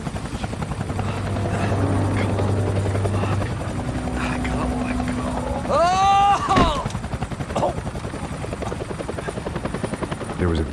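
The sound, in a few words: helicopter flying in video game Max Payne 3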